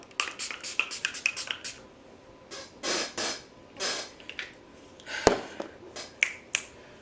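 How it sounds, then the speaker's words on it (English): Short bursts of Revolution Pro Fix oil control fixing spray misted over a face during a makeup routine, several quick hissing puffs close up, no talking. "I'm just going to spray a little of this over my face before we add the powder."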